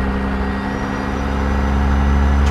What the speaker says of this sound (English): you hear a lot more engine